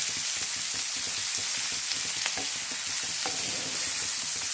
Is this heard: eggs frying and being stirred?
yes